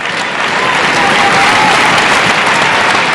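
Crowd applauding at a 2006 World Championship badminton men's singles match, a loud, sustained roar of clapping from a large arena audience that swells slightly and holds steady throughout.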